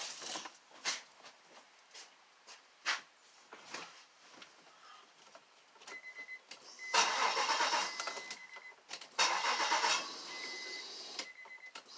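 Key turned in a 2004 Acura RL with a fuel pump fault: several faint clicks, then two loud bursts of starter cranking with a whining tone, heard close up and without speech.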